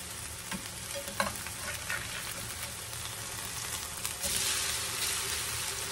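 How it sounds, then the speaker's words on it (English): Food fries in a pan with a steady, close sizzle and a few sharp pops, with no talking over it. "They're frying easy now"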